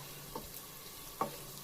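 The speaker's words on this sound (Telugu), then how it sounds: "మిక్స్ చేస్తున్నాము. ఫ్రై కానికి ఆనియన్ మంచిగా ఫ్రై కానికి మనం కొంచెం సాల్ట్ వేసుకోవాలి" Onions frying with salt in a pan are stirred, with a steady low sizzle beneath two brief scraping clicks of the spoon against the pan.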